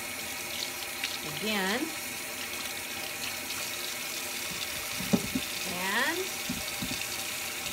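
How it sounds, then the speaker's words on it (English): Water runs from a kitchen tap as peeled beets are rinsed, a steady splashing hiss under a few brief spoken words. "I'll go ahead and rinse them"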